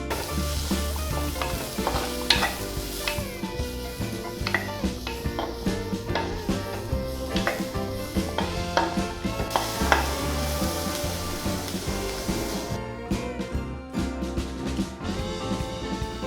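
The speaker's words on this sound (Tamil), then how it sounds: "சின்னதாக நறுக்கி வச்சுருக்கிற அந்த சின்ன வெங்காயத்தை அதுக்கப்புறமா நம்ம வந்து இதில் போட போகிறோம்." Steady oil sizzle of shallots frying in coconut oil in a clay pot, continuous and close, with occasional stirring scrapes over a constant crackling hiss.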